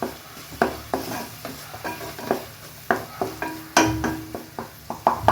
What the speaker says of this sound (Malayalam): ഇനി ഒന്ന് ജസ്റ്റ് ഒന്ന് വഴറ്റിയാൽ മതി പെട്ടെന്ന് തന്നെ പച്ചമണമൊക്കെ മാറിക്കിട്ടും